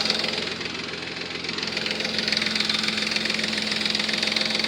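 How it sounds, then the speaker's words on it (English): A car engine idles steadily with a persistent ticking lifter noise after a Motor Medic engine flush, a close, constant mechanical rattle with no talking. "Same lifter noise."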